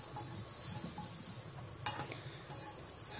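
Freshly grated coconut dry-roasting in a hot dry pan, a quiet continuous crackling sizzle with soft scraping strokes as it is stirred around.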